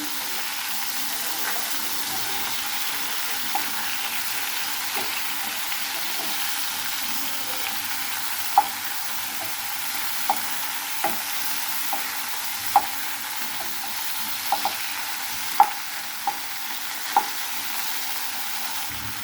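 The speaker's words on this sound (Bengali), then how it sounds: "এই মাছটা আমি হালকা ভেজে নেব।" Long, even sizzle of pangas fish lightly frying in oil, punctuated by occasional sharp spatters and pops, no voices.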